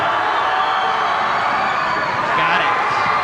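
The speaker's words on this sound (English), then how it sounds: "Piner crowd letting him have it a little bit." Home crowd at a Piner high school basketball game against Healdsburg gives a steady, dense roar of voices, loud and continuous, swelling slightly near the end as the jeering builds.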